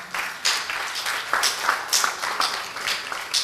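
Applause rings out for prize winners at a spelling contest ceremony, a moderate patter of hand claps in uneven bursts that swell and fade over a few seconds.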